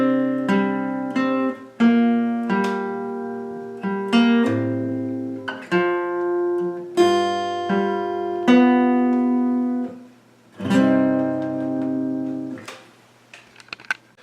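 Guitar slowly plays a Hytale riff with harmonic minor flavor, a deliberate sequence of plucked notes and ringing chords with decaying sustain and brief pauses, close and solo without talk.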